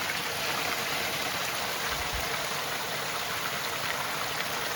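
Water flowing steadily along a stream at a wayside spot, a constant broadband rush that fills the whole stretch without a break, fairly close and with no voices.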